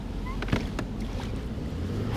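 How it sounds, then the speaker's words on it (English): Strong wind blusters outdoors on open water during kayak fishing, with a steady low rush, a few knocks and splashes against the boat, and no talk. "The wind is so strong."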